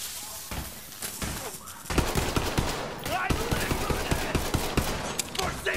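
Rapid bursts of automatic gunfire from a shooter video game, Borderlands 3, with sharp overlapping shots and heavy impacts, loud and continuous through most of the stretch.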